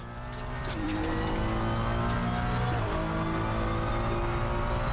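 GT3 race car engine in the RaceRoom racing game, a loud steady roar rising and falling through gear changes with revving pitch sweeps, close and continuous for the whole stretch with no talk.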